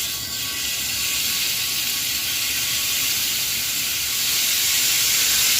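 Thinly sliced beef for Philly cheesesteaks cooks in a hot pan with a steady, close sizzle and hiss that continues without a break.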